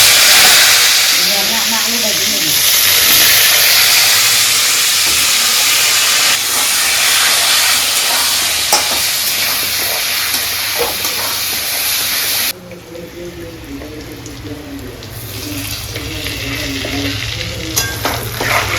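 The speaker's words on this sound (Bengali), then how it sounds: "আর একটু হবে নাকি ভাজা আলু?" Potatoes fry in a pan with a loud, continuous sizzle and hiss, broken by repeated scraping and stirring sounds close by.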